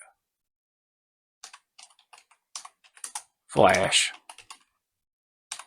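Typing on a computer keyboard: sparse, close, quiet key clicks in short bursts, briefly interrupted by a single spoken word.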